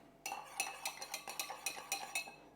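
A metal spoon stirs a Bee's Knees cocktail of gin, lemon and honey syrup in a mixing glass, giving about nine quick, light clinks in an even rhythm, close and fairly quiet, with no voices.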